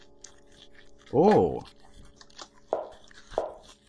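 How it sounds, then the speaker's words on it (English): A dog munching in the horror video game Mad Father, a few wet crunching chewing bursts spaced apart, fairly faint, with a short voiced exclamation from a person nearby. "I can still hear the dog munching"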